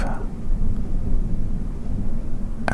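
Thunder rolls as a deep, continuous low rumble through the whole stretch, steady and fairly loud, with a brief sharper crackle near the end.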